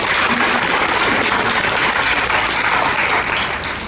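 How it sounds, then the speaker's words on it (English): An audience in a hotel function room applauds, a dense sustained patter of many hands clapping at a steady level before easing slightly at the very end. "Already given a big applause."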